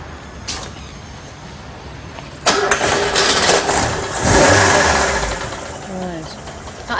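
A used car's engine cranks and starts, then idles with a faint, light tapping running through it, while people talk nearby.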